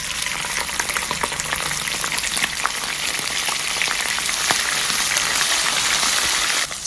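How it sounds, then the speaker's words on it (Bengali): Shrimp fry in hot oil with bay leaf, cumin and whole spices, giving a loud, dense, crackling sizzle that runs without a break, close to the pan. "চিংড়িগুলো আগে ভেজে নিব।"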